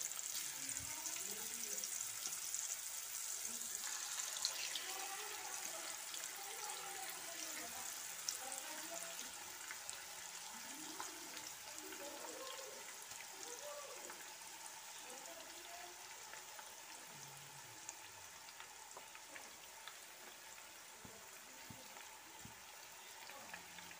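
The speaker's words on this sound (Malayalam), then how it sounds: "ചിക്കൻ വറുത്തെടുക്കുമ്പോൾ ലോ ഫ്ലെയിമിലിട്ടിട്ട് വറുക്കുകയാണെങ്കിൽ നല്ലപോലെ വെന്ത് കിട്ടുകയും ചെയ്യും" Chicken pieces fry slowly in coconut oil over a low flame for chicken kondattam. A quiet, steady sizzle and crackle carries through the whole stretch, with a voice talking at times beneath it.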